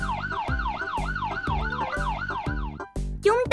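A cartoon police car siren wails in a steady, loud repeating rise-and-fall cycle, pulsing about twice a second, then breaks off into a brief swooping effect at the end.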